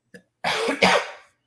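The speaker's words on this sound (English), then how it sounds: "No, I was coughing." A person coughs hard a couple of times up close, a short catch followed by a rough, breathy double cough that trails off.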